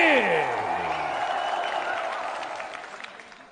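Crowd applause at a fight event for a Tibetan fighter's introduction, steady clapping under a loud sliding musical swell that slowly fades.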